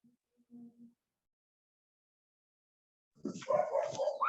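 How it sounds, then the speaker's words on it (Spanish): After a few faint early sounds, dogs break into a short burst of agitated barking near the end, heard at a household during an online church meeting. "Discúlpeme que los perros se alborotaron"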